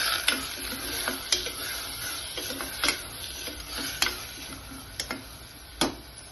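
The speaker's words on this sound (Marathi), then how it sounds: "चमच्याने आपल्याला मिक्स करून घ्यायचंय" A spoon stirs in a pot, with irregular metallic clinks and scrapes against a soft sizzling hiss.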